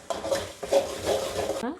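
A spoon or spatula scrapes and stirs thick sambal in a frying pan, with soft clanks of metal on the pan, close by.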